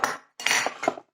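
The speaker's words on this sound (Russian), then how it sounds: "Разбираем кофеварку." Bialetti Brikka moka pot coffee maker being taken apart, giving a few short metallic clinks and clanks in separate bursts, close and fairly loud with no talking.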